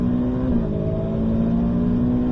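A race car engine roars loudly and steadily on track at Circuit de Bresse, its pitch shifting slightly as it accelerates, with no voices.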